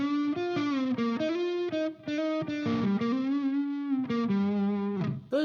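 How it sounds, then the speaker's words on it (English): An electric guitar played through a Behringer TO800 Vintage Tube Overdrive pedal, a loud, continuous run of distorted single notes and phrases with sustained, harmonically rich tone and brief pauses between licks, alone without talk. "Let's turn on the overdrive."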